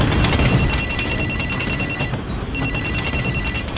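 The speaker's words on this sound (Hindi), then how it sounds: "थोड़ी देर में मेरा फोन बजा।" A telephone rings loudly and close by, a rapid electronic trilling bell in two bursts separated by a short pause, with no talking.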